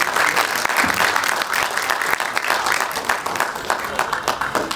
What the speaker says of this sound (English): can we have a huge round of applause as we begin this event?